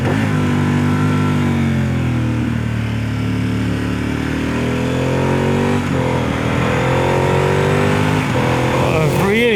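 A KTM twin-cylinder motorcycle engine runs loud and close throughout, holding a steady throbbing drone with slight rises and dips in revs, no speech over it.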